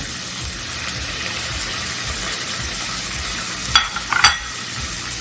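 Chopped vegetables going into a hot pan for semolina khichdi, a steady close sizzle of frying throughout, with a couple of brief louder crackles and scrapes near the end.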